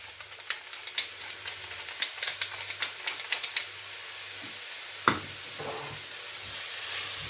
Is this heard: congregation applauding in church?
no